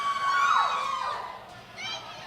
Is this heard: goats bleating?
no